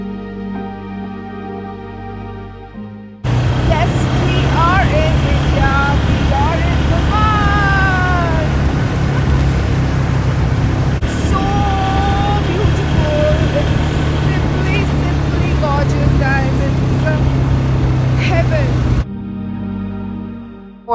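An ATV rides over snow in Gulmarg: a loud, steady engine drone with wind rush runs throughout, and voices speak over it.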